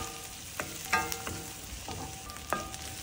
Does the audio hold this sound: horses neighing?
no